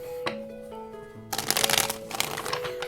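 Tarot cards being shuffled, a quiet tone and a faint tap first, then a close, dense riffling flutter that continues to the end.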